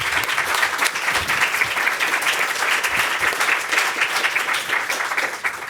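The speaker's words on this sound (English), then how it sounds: "Let's give a round of applause for our panel." An audience at a live-streamed education reform panel event breaks into sustained, dense applause, many hands clapping steadily for several seconds without pause.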